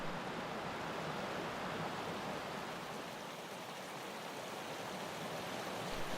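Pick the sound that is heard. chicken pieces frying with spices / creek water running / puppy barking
creek water running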